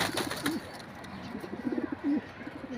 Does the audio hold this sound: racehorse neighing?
no